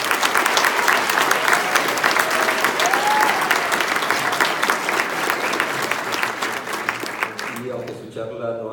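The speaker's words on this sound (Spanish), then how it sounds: "Un fuerte aplauso." Loud, sustained applause from a symposium audience after an opening science lecture, dense steady clapping that thins out near the end.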